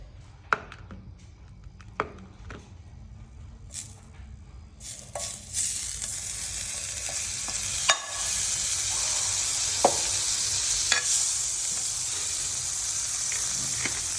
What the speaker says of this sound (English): on this hot pan I add some butter